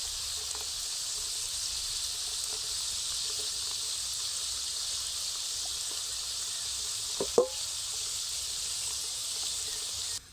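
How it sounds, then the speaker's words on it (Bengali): Nimki pastries frying in hot oil in a wok give a steady, even sizzle throughout, with a brief clink or splash near the end. "তেলটা খুব ভালোভাবে গরম হয়ে গেছে একে একে নিমকিগুলো দিয়ে দেবো"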